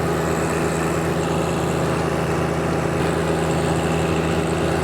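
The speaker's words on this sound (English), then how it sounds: "The standard 1025R out here today because I wanted you to see how it would behave on a standard subcompact tractor." A John Deere 1025R subcompact tractor engine runs at a steady, loud drone with no change in pitch and no voices.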